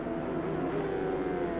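Ducati and Honda superbikes race at Oulton Park in 1995, their engines giving a loud, sustained high-revving drone that holds steady for a moment without a break.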